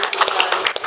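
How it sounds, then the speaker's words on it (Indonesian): A few quick, close hand claps from an audience at an admissions information session, sharp and uneven, lasting under a second. "tepuk tangan dulu buat Bapak Ibu"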